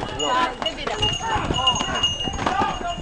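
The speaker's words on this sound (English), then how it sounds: "That's my donkey now." A donkey's hooves clip-clop on stone steps in Santorini, irregular close knocks mixed with a busy outdoor bustle while a person talks.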